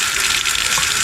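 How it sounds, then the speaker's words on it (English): Running tap water splashes over canned beans in a kitchen sink, a loud, steady, close gush with no talking. "the beans are actually rinsed off from that liquid they put them in"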